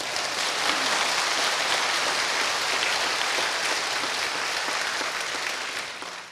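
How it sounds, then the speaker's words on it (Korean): A church congregation at a pastor's lecture applauds in a continuous, hissy wash of clapping, dense and even like rain, gradually fading toward the end. "박수."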